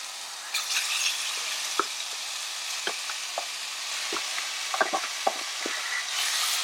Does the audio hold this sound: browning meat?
yes